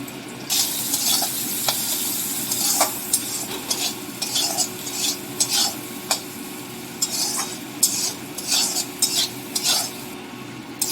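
Onion, chopped tomato, salt and turmeric powder are stirred in hot oil for a rohu fish curry, with a steady low sizzle under frequent scraping and clinking spatula strokes, close by and with no voice.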